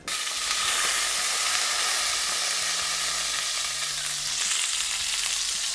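Chicken pieces fry in hot oil with a constant loud sizzle and crackle, a dense steady hiss close up throughout with no talking.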